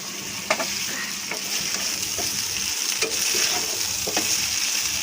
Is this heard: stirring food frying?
yes